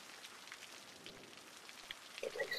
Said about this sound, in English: except the rain. But rain means it's quiet.